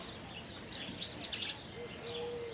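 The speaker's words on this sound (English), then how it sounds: "There's some wild birds they're able to squeeze in through the netting." Wild birds chirping inside a desert zoo aviary, a scatter of faint high tweets and short calls over a low hum, with one thin whistled note near the end.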